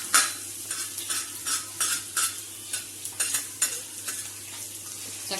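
Garlic and ginger pieces fry in hot oil, a soft continuous sizzle broken by repeated scraping strokes of a spoon stirring the pan at an even rhythm, close and alone.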